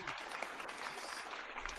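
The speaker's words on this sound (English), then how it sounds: "let's give these guys a round of applause." Audience applause at the close of a season of a million-dollar cup live stream, a faint, dense, even patter of many hands heard from a distance.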